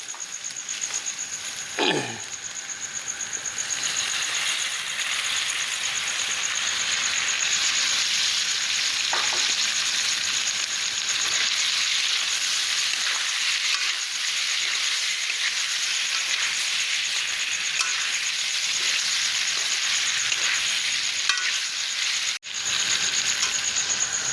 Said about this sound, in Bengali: পেঁয়াজ আর ক্যাপসিকামটা ভাজা হয়ে গিয়েছে, এতে এবার আমি চিকেনগুলো তুলে দেব।